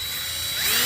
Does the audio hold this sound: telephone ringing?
no